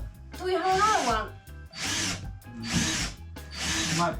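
A power drill with a cheap drill bit bores into rotten wood in an old stone house, running in three or four loud, close bursts of whining, grinding drilling separated by short pauses, with a voice talking over the first burst.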